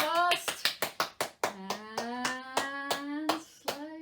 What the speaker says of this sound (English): can you clap your hands together?